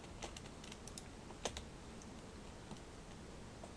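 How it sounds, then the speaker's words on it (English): Computer keyboard clicks while working in Maya, a series of light, irregular taps and one sharper spacebar press, close and quiet over a steady hiss. "I'm clicking spacebar to switch between the screens."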